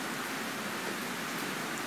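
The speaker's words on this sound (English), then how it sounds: "Rain is falling." Rain falling outside makes a steady, dense hiss with no breaks, heard alone for a couple of seconds.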